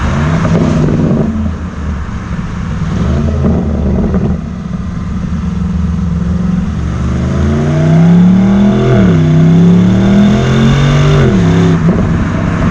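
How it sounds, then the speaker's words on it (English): A 2019 BMW M850i xDrive Coupé engine revs up and down loudly, its exhaust popping and crackling between rising and falling throttle blips. "we now have crackles coming from the exhaust of the car."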